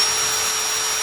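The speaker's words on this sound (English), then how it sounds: "I'm going to pre-drill" A drill bores a pilot hole and countersinks into particle board, giving a steady, loud high-pitched whir that holds throughout with no break.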